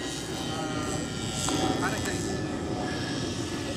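An MD500 model helicopter with a failed tail servo flies overhead, a steady rotor and motor whine with a mild rise in loudness midway, while a person speaks in the background.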